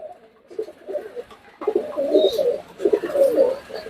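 Teddy and racer pigeons coo in a loft, a steady run of soft, throaty calls from several birds that swells louder midway and continues close by with no talk.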